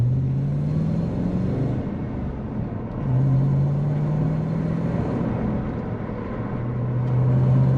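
A car cruises on the highway at about 120 km/h while its Link ECU cruise control is tested. A steady, close engine drone runs throughout, with slight pitch rises and dips and constant road rumble; no one speaks.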